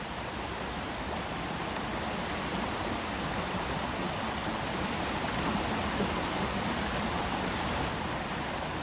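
A fierce river current rushes near a waterfall in the remote Aleutian Islands of Alaska, a steady broadband roar of turbulent water at moderate level with no voices.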